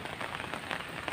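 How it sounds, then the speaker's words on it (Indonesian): Light drizzle falling over a graveyard, a dense, even patter of fine raindrops with a soft hissing wash and no voices. "Inilah suasana gerimis di area makam,"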